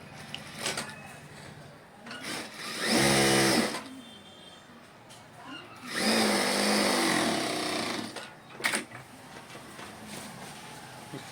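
An electric sewing machine stitching a shirt seam, with two loud bursts of fast whirring separated by quieter handling noises and clicks.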